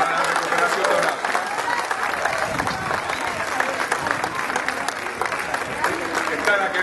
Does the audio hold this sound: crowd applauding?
yes